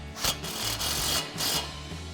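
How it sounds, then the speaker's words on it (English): An impact wrench with an 11mm socket tightens an exhaust tip nut on a Corvette C7 AWE Track Edition axle-back exhaust with chrome silver tips. It gives three quick, close whirring pulses in a couple of seconds. "Grab our impact 11mm socket and tighten it down."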